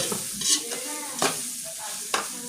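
Blue marlin innards fry in a pan, a soft steady sizzle broken by a few sharp scraping stirs of a utensil, close up and without talk.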